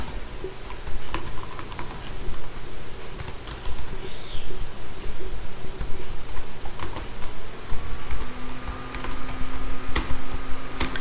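Data typed into an Excel spreadsheet on a computer keyboard, a brisk steady stream of close key clicks with occasional louder taps, going on without a break and without talk.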